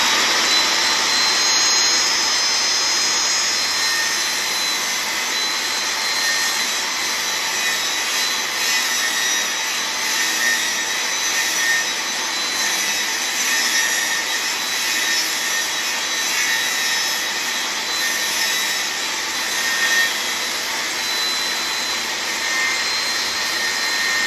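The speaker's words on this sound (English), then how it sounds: "Now you turn your saw blade on and run it." A table saw blade ripping through a length of wood in a home workshop, a loud continuous high whine and rushing cut that holds steady for the whole stretch, no voices.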